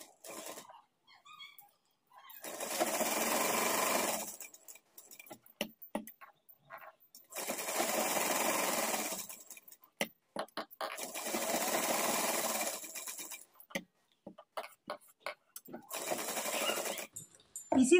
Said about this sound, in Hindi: अब यहाँ से सिलाई लगाएंगे।